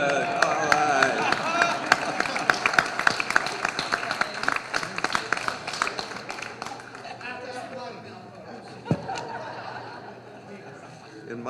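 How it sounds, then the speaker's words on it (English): A room full of people at a Texas Historical Commission quarterly meeting claps steadily for several seconds, with laughter and chatter mixed in. The applause thins out toward the end. "I've never heard that much applause"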